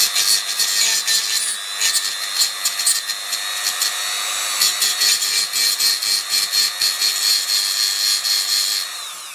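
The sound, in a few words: Dremel rotary tool filing a lug on an SX-70 camera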